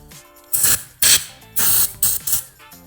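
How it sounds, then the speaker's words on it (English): Short hissing bursts of starting fluid sprayed into the air box of a 22-year-old Kawasaki Ninja 250 motorcycle, five quick close sprays in under three seconds with no talking. "So, yeah, a little starting fluid."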